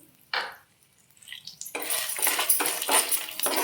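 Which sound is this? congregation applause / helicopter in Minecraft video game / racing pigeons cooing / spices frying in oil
spices frying in oil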